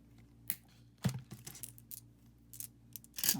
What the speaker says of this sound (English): I am going to go ahead and cut my beads,